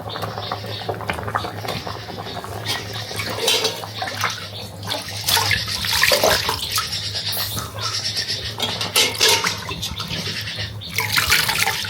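Meat is washed under running water, with a continuous splashing stream and irregular sloshing and clatter as the pieces are rubbed and turned close by.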